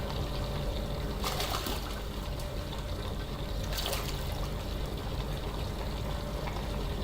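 Steady stream of water pouring into a cold water tank in the video game Gunsmith Simulator, a continuous close splashing flow lasting throughout, with no talk.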